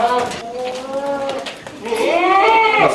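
Goats in a pen on a goat farm give two wavering bleats, close by, with a short pause between them.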